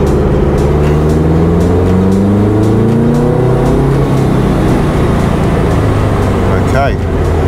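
A Subaru engine running on nitrous oxide revs loud and steady throughout, with a thick, continuous rumble and rising and falling tones, while speech is present.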